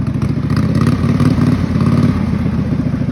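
Race lawn mower with a fully swapped rear end and overdriven engine pulley revving hard, a loud, close, rattling mid-pitched engine roar with rapid firing pulses, continuous throughout.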